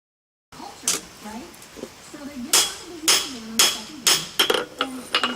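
A hammer strikes hot steel being forged into a cabinet handle, giving about seven sharp ringing blows at an uneven pace, close by, after a quiet start.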